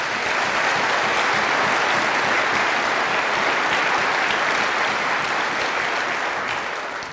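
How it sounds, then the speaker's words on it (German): A large outdoor crowd at the opening speech of the 2019 Neues Hambacher Fest breaks into dense, sustained applause, loud and even throughout before easing slightly at the close. "Applaus."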